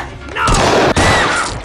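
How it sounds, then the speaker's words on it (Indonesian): A loud, sharp gunshot-like burst with a brief cutoff, followed by a sustained noisy rumble, close and dominant. "tak sengaja Lydia melepaskan tembakan dan mengenai leher Jonah."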